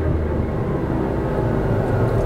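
A car engine revving under acceleration, a steady loud low drone with no clear rise in pitch, heard close and alone without talking.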